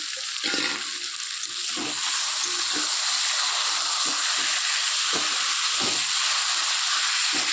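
Fried potatoes dropped into chicken cooking in a pan, a loud, close, continuous hissing sizzle that swells after the first couple of seconds and holds steady, with no voices.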